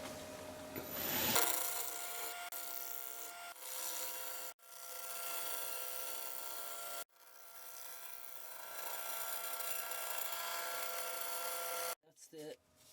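A woodturning tool cuts into a yew natural-edge hollow form spinning on a lathe, giving a steady rasping, scraping roar that runs for several seconds with a few brief breaks and a short stutter at the end.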